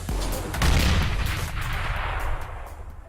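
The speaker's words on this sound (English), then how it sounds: "Grenade out." A grenade blast in a video game firefight rolls out as a loud booming burst followed by crackling gunfire that fades over a few seconds.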